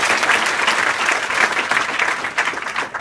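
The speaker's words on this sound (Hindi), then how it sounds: "तो सारिका के लिए जोरदार ताली बजाओ" Loud, sustained applause fills the room as girl students at an inter college in Azamgarh clap together for a classmate named Sarika. The clapping is dense and even throughout, with no talking.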